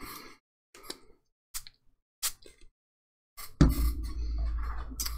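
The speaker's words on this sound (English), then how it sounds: "Now I'm going to spritz it with some water." Water spritzed from a spray bottle onto a baked Christmas ornament, a few short separate hissing bursts with silence between them, then a louder sustained spray texture at the end.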